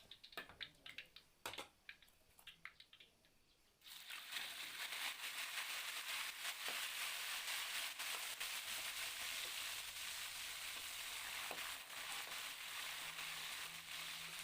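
Steady, loud sizzling and crackling of boiled, cut-up meat frying crispy in hot oil, starting abruptly after a few seconds of quiet clicks and taps.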